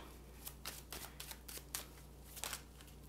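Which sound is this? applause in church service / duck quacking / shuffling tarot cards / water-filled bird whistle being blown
shuffling tarot cards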